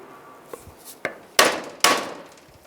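A screwdriver knocks a door hinge pin out on a 2007-13 Chevy Avalanche: a few light taps, then two sharp, louder metallic strikes close by, each ringing briefly.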